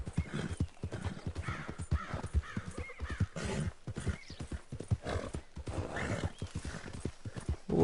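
Horse hooves clip-clop in steady rhythm beneath repeated whinnies and snorts in Red Dead Redemption 2, with an outlaw riding his horse through open country; the sound stays close and fairly loud throughout.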